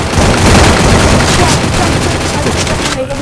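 Rapid bursts of gunfire and explosive booms from a Free Fire mobile battle match fill the scene, loud, dense and continuous throughout, with a voice talking over it.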